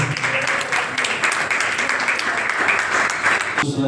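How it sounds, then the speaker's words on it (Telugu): Guests at a Christian wedding ceremony clap together in a steady burst of applause for the newlyweds. The clapping is fairly close, continuous and alone, with no talk, and it ends abruptly. "చప్పట్లు అందరూ"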